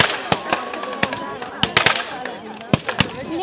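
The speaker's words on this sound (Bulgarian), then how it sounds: "От усилени артилерийски огън, картечни откоси и пушечни изстрели, българските войски отбиват атаката на силите на Антантата." Artillery, machine-gun and rifle fire at a battle reenactment in Dobrich, staged as Bulgarian troops repelling an Entente attack: sharp, irregular cracks and bangs, some close together in bursts, over a murmuring background with voices.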